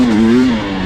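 The engine of a 2021 KTM 300 XCW two-stroke dirt bike holds a steady, loud, buzzy drone at a sustained pitch that dips slightly toward the end, close to the listener.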